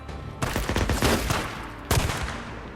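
Bursts of rapid machine gun fire in the video game Days Gone, two loud close volleys of rattling shots with a short pause between them.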